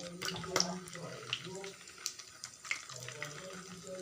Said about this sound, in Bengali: এখানে দেখুন তেল গরম হয়ে গেছে আমি একটা একটা করে এরম করে দিয়ে নেবো